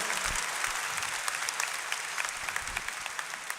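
A church congregation applauds during a Catholic Mass, a loud, dense wash of clapping that continues without a break, with occasional low thumps mixed in.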